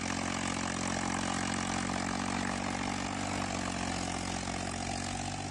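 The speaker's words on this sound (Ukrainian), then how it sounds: "Прогазовує непогано його так із труби димить." A mini tractor engine runs close by at a steady, strong drone with a smoking exhaust pipe, holding an even throttle throughout with no voices heard.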